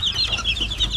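Gamecocks, fighting roosters kept for cockfighting, cluck and call in short bursts over a steady low background noise, one bird audible in the foreground.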